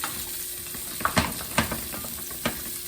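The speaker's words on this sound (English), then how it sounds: "saute up a chopped onion" Chopped onion sizzles in a hot pan while a utensil stirs and scrapes it, giving a steady hiss broken by several sharp clacks and scrapes, heard up close with no talking.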